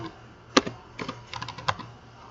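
Keys clack on a computer keyboard as a registration form is filled in: a handful of quick, light keystrokes in an irregular burst, close and fairly quiet, with no talking.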